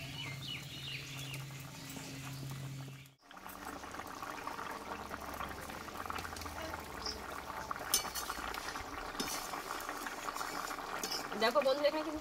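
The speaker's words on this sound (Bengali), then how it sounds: "দেখো বন্ধুরা এখানে কিন্তু তরকারিটা ফুটতে লেগেছে।" Vegetarian potato and papaya curry simmers in a pot with a steady, soft bubbling, broken by a brief dip and a few light metallic clinks near the end.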